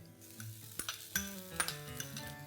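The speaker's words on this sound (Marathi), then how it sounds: "आता आपण बटाटे टाकून घेऊया। हे उकडलेले बटाटे आहेत" Three large boiled potatoes being stirred into frying onions in a pan for a vegetable cheese paratha filling, with soft sizzling under a series of clinks and scrapes of a spoon against the pan, close up and without talk.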